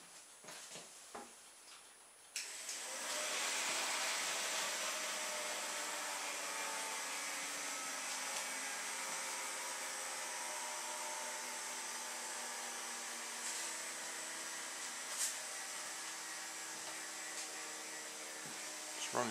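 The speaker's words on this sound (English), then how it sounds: "just a quick test run with a temporary 9-volt battery to power all four motors at the" Four small hovercraft fan motors running together off a temporary 9-volt battery indoors in a kitchen: a few clicks, then a sudden start into a steady, close, high-pitched whirring drone that holds for the rest of the clip with no talking.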